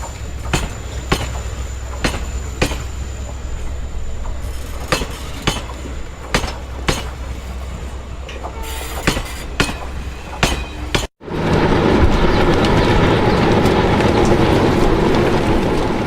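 A Konkan Railway train runs along the tracks with regular sharp clicks and clanks from wheels over rail joints above a low rumble, then a sudden cut to a louder, broader roar of running.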